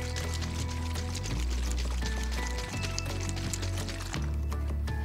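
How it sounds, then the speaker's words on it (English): Water and oil being shaken together in a container, a steady continuous sloshing and splashing of liquid that runs loud and close for the whole stretch, briefly easing near the middle and end. "And we're gonna shake that one up too."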